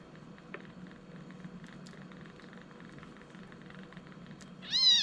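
A hungry kitten lets out a single clear, rising meow near the end, close and fairly loud, after several seconds of faint indoor background rustle.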